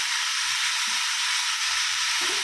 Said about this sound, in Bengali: একটু ভাজা ভাজা হোক, তারপরে জল দিয়ে দেবো।